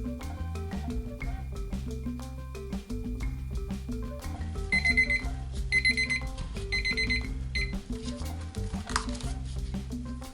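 A kitchen timer alarm goes off after five minutes of mixing two-part epoxy resin and hardener for clear-coated coasters, sounding as repeated bright electronic beeps in short bursts over steady background music.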